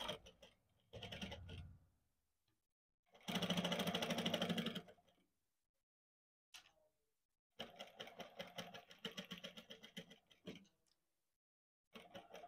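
Sewing machine run slowly while stitching a round neck design, giving short separate bursts of fine rapid ticking with pauses between them, close and fairly quiet.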